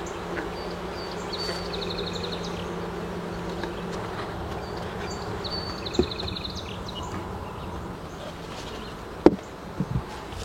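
Honeybees buzz steadily around a very active hive colony in an apiary, a dense continuous hum with a few brief closer passes and faint knocks near the end.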